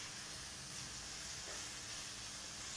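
Grated carrots for gajar ka halwa roast in a kadhai with a faint, continuous sizzle and low stirring rustle, steady throughout with no voices.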